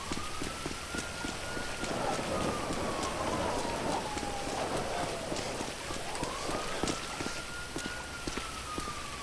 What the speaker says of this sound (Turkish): İnsanlık ölmüş şu yağmurda geziyoruz ya.